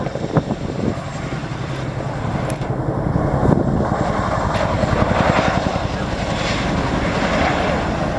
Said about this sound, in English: The Chinook can carry a wide-shoulder departure by using all of that available power